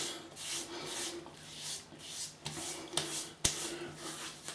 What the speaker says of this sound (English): rub that into the whiskers